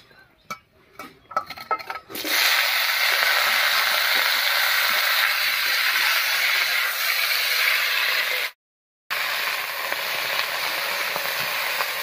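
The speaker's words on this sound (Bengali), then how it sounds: "লাউয়ের ডগা আর আলু দেব।" Bottle gourd shoots and potatoes drop into hot mustard oil over a cumin and bay leaf tempering: after a few soft clatters, a loud, steady sizzle rushes in and holds, broken once by a brief gap.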